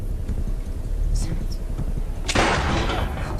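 A single gunshot rings out in an Agents of SHIELD episode, a sudden loud crack with a short rolling tail after a stretch of low rumbling tension, while a person talks over the scene.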